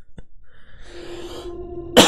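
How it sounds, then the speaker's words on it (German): A single cough, followed moments later by a loud thump of the microphone being knocked, close and without any talking. "bin gegen das Mikro gekommen beim Husten"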